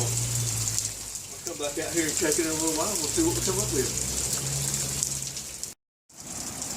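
Light outdoor rain falls in a steady soft patter beside a rainwater collection setup, heard under someone talking close by.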